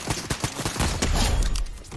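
Twin Mag rifle fire in Fortnite: rapid, punchy shots in quick succession that blur into a dense burst of loud gunfire, with no voices.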